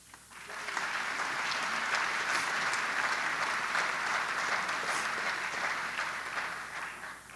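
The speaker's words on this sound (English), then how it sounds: "thank you for the applause" An audience at an alumni medallion ceremony and service awards event applauds steadily, a dense wash of clapping that swells quickly and holds for several seconds before easing.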